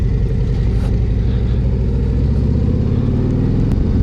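A 2025 Harley-Davidson CVO Road Glide cruises along a tar-and-gravel country road with a steady, close, low engine rumble and a faint rise in revs, with no talking.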